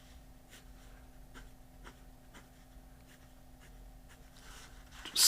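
A fountain pen with a 1.5 stub steel nib writes on paper: soft, faint scratchy strokes come in a steady rhythm over a low background hum, with a louder burst at the end.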